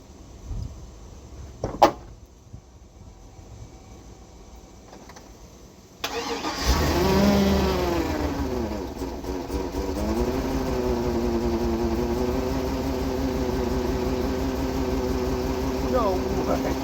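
A 2003 Chevrolet Silverado pickup that has sat unused for years, jump-started: several seconds of near quiet with a single click, then the engine cranks and catches, settling into a steady rough idle up close.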